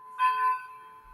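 A train clock sounds a brief bell-like chime over a faint steady hum, ringing for a moment and then fading, with no speech.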